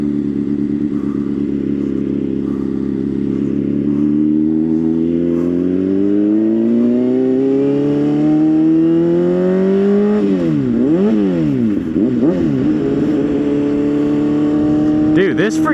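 A 600cc motorcycle engine drones close and loud as it rides, rising steadily in pitch through the gear, then falling and rising again through quick shifts.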